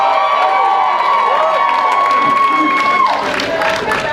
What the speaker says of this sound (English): how many people are from Chanute again, by round of applause?